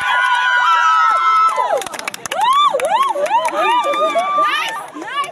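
At a college sports week, a crowd of young voices cheers and shrieks loudly for their house team, rising and falling in excited whoops and wavering screams.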